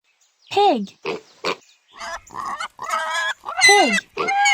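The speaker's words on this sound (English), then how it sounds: "Pig," A pig oinks in a string of short grunting calls, loud and close, followed by bursts of higher squeals and snorts.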